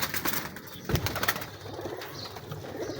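Young pigeons from Prince Kamgar and Chaudhry breeder lines make soft coos and rustles amid a busy, noisy background, with a brief flutter near the middle.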